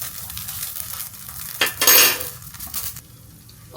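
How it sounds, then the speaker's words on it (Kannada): Chicken shawarma frying in oil in a pan, a steady soft sizzle with a louder clatter of a utensil against the pan midway and a final clink. "ಇವಾಗ ನಾವು ಇನ್ನೊಂದು ಸೈಡ್ನ ನೀಟಾಗಿ ಫ್ರೈ ಮಾಡ್ಕೊಳ್ಳೋಣ."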